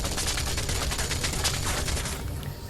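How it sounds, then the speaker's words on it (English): Rapid automatic gunfire from Deus Ex: Mankind Divided, a loud, sustained burst of closely spaced shots that tapers off toward the end. "Can you stop with the shooting?"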